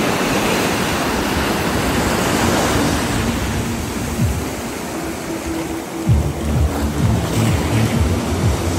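Ocean waves wash onto a beach in Tenerife, a continuous close roar of surf and splashing water around the feet, loud and steady with swelling surges.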